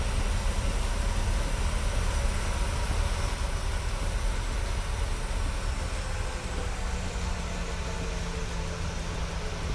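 Aircraft engine noise in Microsoft Flight Simulator at a Madagascar airport as a plane prepares to take off, a steady loud broadband roar with a low drone that holds throughout, no voices.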